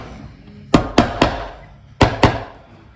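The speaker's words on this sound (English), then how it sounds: "we go around tapping some of the proud joints down so the lead doesn't come through the solder." Five sharp taps on the lead joints of a leaded light glass panel, three close together and then two more after a short pause, heard alone and up close.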